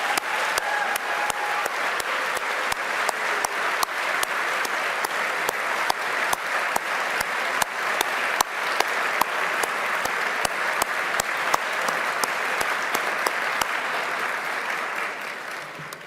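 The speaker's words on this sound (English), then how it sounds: "giving them a huge round of applause" An audience at a winter university graduation ceremony gives a long, steady round of applause for the staff, with crisp, continuous clapping that tapers off near the end.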